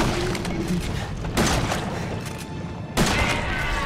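Two heavy gunshots ring out in a Resident Evil 7 boss fight, loud and close, each a sharp broadband blast spaced about a second and a half apart over a dense rumbling game backdrop.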